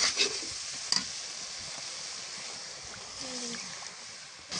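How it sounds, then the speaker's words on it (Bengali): Prawns sautéed in a pan, stirred through a steady hiss of frying with a few utensil scrapes and knocks near the start, close and fairly soft throughout. "তো চিংড়ি কষায় নিব।"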